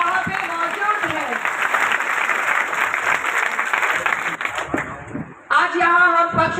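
Loud, dense applause from a large crowd at an AIMIM political rally in Nagpur, held steady for about five seconds before a brief dip and a renewed swell of clapping.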